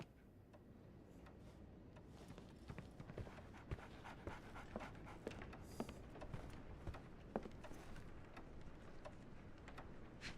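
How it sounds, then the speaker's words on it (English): A dog pants quietly in a Sherlock Holmes video game, a soft, rapid, rhythmic breathing with faint ticking clicks mixed in, low in level and without speech. "So, Barnes has a dog now."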